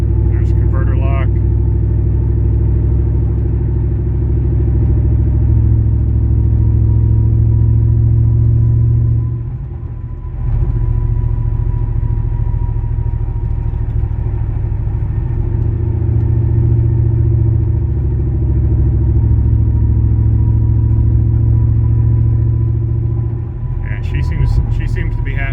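A truck drives under light throttle after fuel repairs, its engine a loud, steady low rumble that dips briefly midway and then resumes, with the converter locking; someone talks over it at times.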